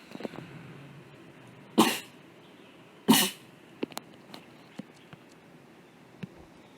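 Two short, loud bursts of a sneeze about a second apart, followed by faint clicks and rustles in a quiet room.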